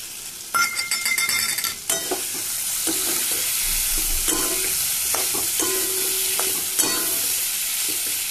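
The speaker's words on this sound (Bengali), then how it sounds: "এর মধ্যে দেবো কয়েক টুকরো সয়াবিন" Boiled soybean chunks with pointed gourd fry loudly in a coconut milk gravy, a steady close sizzle broken by several scraping spatula strokes.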